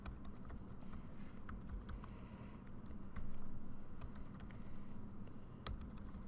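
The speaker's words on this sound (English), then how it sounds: "And when I can type properly, I make my life easier." Someone types a password on a computer keyboard, producing a quiet, steady run of soft key taps over a low background hum.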